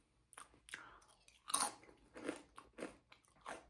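Loud, close crunching as a tortilla chip dipped in drippy cheese and salsa is bitten and chewed, several crisp bites in a quick irregular rhythm.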